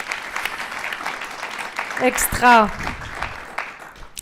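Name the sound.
audience applauding the panel speakers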